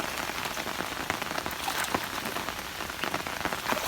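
Heavy rain pours down on a flooded rural area where fish and eel traps are set, making a dense, constant hiss and patter that fills the whole stretch without any talking.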